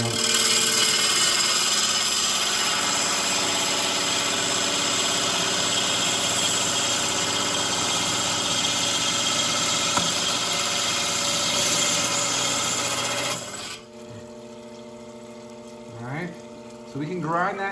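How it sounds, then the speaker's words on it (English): A lapidary lap grinds aquamarine gemstone rough with a steady motorized whir and hum, then shuts off abruptly near the end, leaving a quieter room with a voice talking. "so we can grind that down a little more on the lap"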